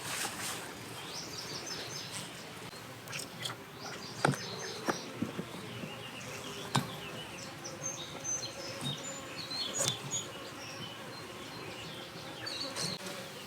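Honey bees buzzing around a hive with queen cells during a beekeeping inspection, a dense continuous drone with individual bees zipping close by, plus scattered clicks and taps.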